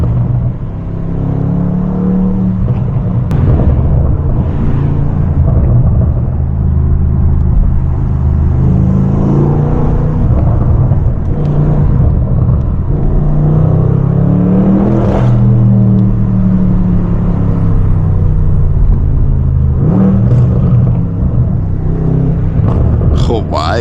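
A straight-piped BMW M550i engine revving while driving downtown, a loud, raw rumble that rises and falls across the whole stretch, with the exhaust drone swelling in repeated surges and people talking faintly underneath.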